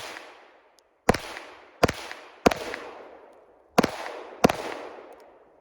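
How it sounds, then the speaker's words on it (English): Pistol shots fired at a B8 target during a ten-round timed drill, five loud sharp cracks spaced roughly a second apart, each trailing off in a long echoing decay at an outdoor range. "I'm going to shoot 10 rounds, 10 seconds on the top B8."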